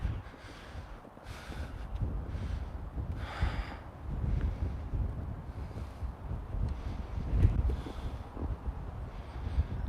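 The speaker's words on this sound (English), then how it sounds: "it is windy as heck" Wind gusts outdoors buffet a microphone in uneven rumbling waves, rising and falling over several seconds with no speech.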